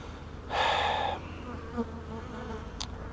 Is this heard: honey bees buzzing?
yes